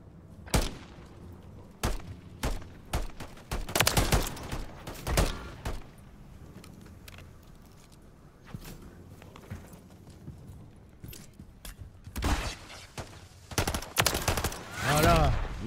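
Call of Duty Modern Warfare III gameplay gunfire on the Rust map, sharp bursts of shots in clusters with quieter gaps, then a dense rapid volley near the end.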